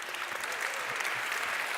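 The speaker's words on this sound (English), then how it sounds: "Give them a round of applause." Audience applause fills a summit hall, a dense steady wash of many hands clapping close and continuous, with no voices standing out.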